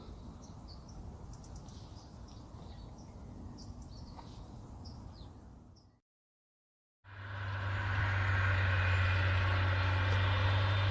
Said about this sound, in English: the farmer is cultivating one of the fields next door